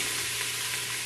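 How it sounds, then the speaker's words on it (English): Onions sizzle steadily in a hot Instant Pot, a dense continuous crackling hiss close by with no voices. "You'll hear it sizzle if it's hot enough"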